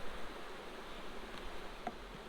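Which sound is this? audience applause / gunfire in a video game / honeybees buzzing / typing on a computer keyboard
honeybees buzzing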